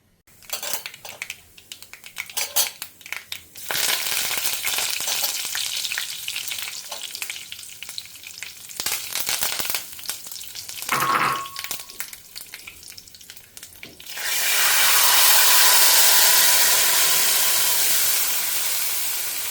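Mustard seeds, fenugreek and curry leaves crackle and sizzle in hot oil, with intermittent stirring clatter, then a loud, steady hiss of frying.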